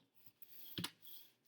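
Scissors cut paper eyes out of a sheet in a quiet setting, with one crisp snip near the middle between faint rustling and small rubbing sounds, and no one talking.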